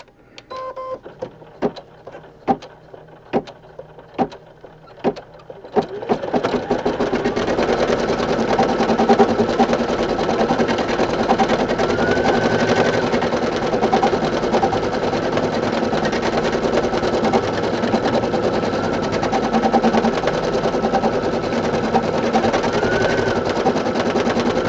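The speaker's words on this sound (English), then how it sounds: "Now we're going to do a placement stitch to do the clover." An embroidery machine sews a placement stitch for a clover in a 4x4 hoop, starting with a few clicks and short taps before settling into a steady, loud, rapid mechanical hum that runs throughout.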